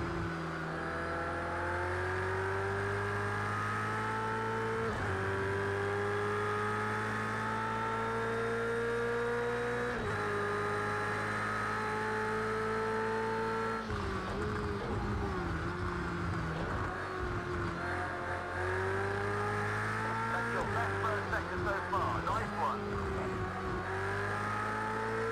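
Race car engine in Project Cars 2 on its final lap, a loud continuous drone that climbs in pitch through the gears, dropping with each shift and rising again, close and alone without talk.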